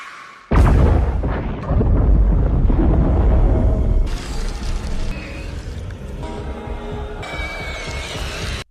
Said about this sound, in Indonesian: pesawat yang sudah terlanjur lepas dari stasiun pun terbang tanpa arah, yang justru malah menabrak stasiun dan menyebabkan ledakan besar